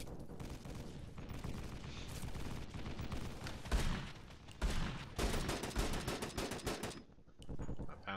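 Rapid automatic gunfire and bursts of shots in an online multiplayer shooter game, loud and continuous with sharp louder bursts near the middle and end.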